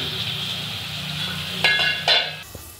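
Pomfret fish frying in a kadai with slit green chillies and spices, a steady soft sizzle with a couple of louder bursts of spatter and a faint clink near the end.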